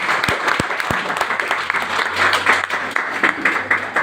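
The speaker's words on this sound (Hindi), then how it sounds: "साथियों, इनके लिए जोरदार ताली बजा दीजिएगा।" An audience breaks into applause for a family standing up at a seminar, a sustained wash of many hands clapping with a few sharp, distinct claps up front and faint crowd murmur beneath.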